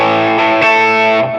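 Gibson Custom '58 reissue ES-335 Murphy Lab heavy-aged electric guitar in Dirty Blonde on the bridge pickup with gain, sounding a few loud sustained distorted chords in quick succession, close and alone.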